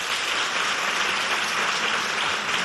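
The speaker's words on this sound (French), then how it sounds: "On les applaudit bien fort." Dense, steady audience clapping fills the whole stretch at an even level for a school quiz contest between Complexe la Renaissance and Lycée de Goudj, with no voices over it.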